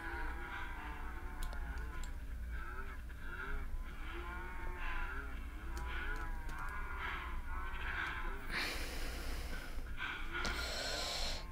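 Cows in a modded Minecraft game moo again and again in short, evenly spaced calls over a steady background hum, with a brief burst of noisy static near the end.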